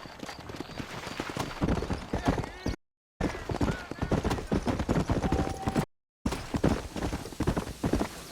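Horse hoofbeats in the Western video game Red Dead Redemption, a steady rapid clip-clop of galloping under a rider, with a horse's whinny and someone talking over the ride; two brief silent gaps break the sound.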